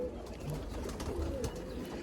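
Soft, low pigeon coos sound faintly against a steady background hiss, a few brief murmuring calls with no speech.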